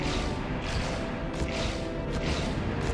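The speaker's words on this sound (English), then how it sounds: "Speed Tier 2 will play a different growling sound once you jump at a speed of 11 and" Speed tier 2 growling jump sound from a wall-jumping video game, triggered at higher jump speeds: harsh, crashing whooshy bursts recurring about three times over a dense continuous noise bed, loud and near, without speech.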